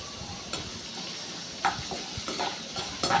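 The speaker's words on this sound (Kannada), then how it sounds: "ನಾನು ಒಂದು ಪ್ಯಾನಿಗೆ ಸ್ವಲ್ಪ ತೆಂಗಿನೆಣ್ಣೆ ಹಾಕಿ ಈ ಸಾಮಗ್ರಿಗಳನ್ನೆಲ್ಲ ಹಾಕ್ತಾಯಿದ್ದೀನಿ ಇದು ಚೆನ್ನಾಗಿ ಬ್ರೌನ್ �ಕಲರ್ ಬರುವವರೆಗೆ ಉರಿಬೇಕು" Spices frying in coconut oil in a pan for a Mangalore-style cucumber sambar: a soft continuous sizzle with occasional light scraping stirs and taps of a utensil, close and quiet.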